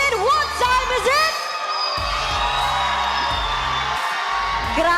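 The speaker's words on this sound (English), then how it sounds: "Grabe yung lakas ng cheer dito." Crowd at a live Mobile Legends esports match in the Philippines, cheering and whooping loudly and continuously after a win, with bursts of yelling rising and falling across the hall.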